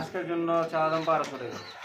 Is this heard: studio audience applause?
no